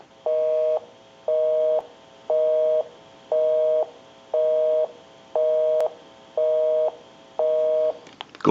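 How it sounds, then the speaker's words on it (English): A Western Electric 500 rotary desk telephone plays a busy signal, eight evenly spaced clear tone bursts with short gaps, loud and alone, followed by a brief clatter at the end. "We'll call my number and it'll be busy."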